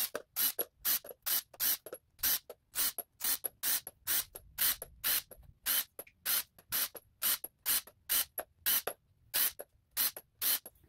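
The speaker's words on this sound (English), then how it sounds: "now I'll come back through with the impact, and it's just quicker that way" An impact wrench loosens bolts on an Audi 3.2 engine during timing chain tensioner and cam girdle seal work. It gives a steady series of short, sharp, rattling bursts about twice a second, close and fairly loud, with no voices.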